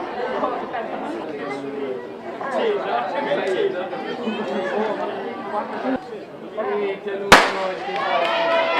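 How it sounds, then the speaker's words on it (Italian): A single sharp starting pistol crack rings out near the end, starting the women's fourth heat at an athletics meet in Trento, cutting through steady crowd chatter and nearby talking voices. "Finalmente lo sparo per le atlete della quarta serie femminile"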